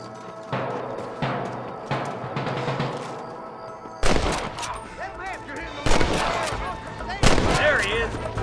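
Gunshots crack in Red Dead Redemption, first as muffled distant shots and then as several loud, close bangs spaced a second or so apart over game ambience.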